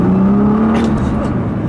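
A 2014 Nissan GT-R in R mode pulls hard, its engine note rising steadily and then dropping as it downshifts, loud and close inside the cabin with someone speaking over it.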